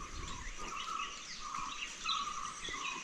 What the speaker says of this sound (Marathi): या बाजूला इकडे चिवचिवाट आहे